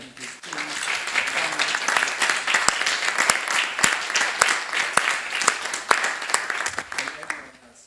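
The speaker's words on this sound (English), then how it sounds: "Please, lots of applause for the local guys" Workshop audience at an endourological stone treatment session in Bucharest breaking into sustained applause, dense clapping rising quickly, holding steady for several seconds, then tapering off near the end.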